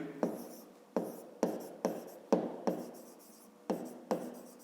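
A pen writes out a maths solution for a fifth-grade volume exercise. About eight close, rhythmic scratchy strokes follow one another, each starting sharply and fading, with no talking.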